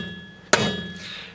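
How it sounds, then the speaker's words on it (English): A single sharp metallic strike of a hammer hitting a rod held against a locking wheel nut, ringing briefly after the blow. "get a rod and a hammer and hit the nut"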